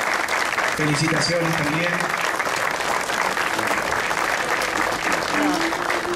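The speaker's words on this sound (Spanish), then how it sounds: "Fuerte el aplauso." Sustained applause from a crowd at a municipal band event and award presentation rolls on throughout, while a voice speaks over the clapping.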